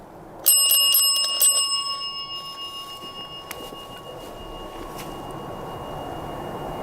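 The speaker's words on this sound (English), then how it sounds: "If you touch it, it will just make a normal bell sound." A bell on a small electronic device rings out with several rapid bright metallic strikes, then its tone rings on and fades slowly over an outdoor camping background hiss.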